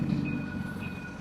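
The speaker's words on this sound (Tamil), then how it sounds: "ஒரே நேரத்தில் 2 ட்ரெயின் வருது." Trains rumble past with a low, heavy rolling drone and faint high squeal or horn-like tones, fairly close and steady for the brief moment, with no speech over it.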